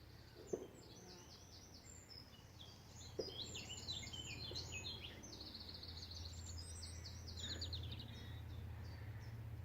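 Many birds sing and chirp together in a smallholding meadow, bright overlapping trills and tweets filling the air outdoors, with a low background hum and a few faint knocks.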